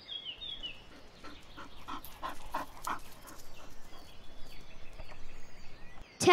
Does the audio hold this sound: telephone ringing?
no